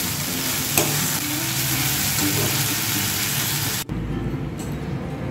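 Fish fries in hot oil in a pan, a loud continuous close sizzle with stirring sounds, cutting off abruptly near the end to a quieter hiss.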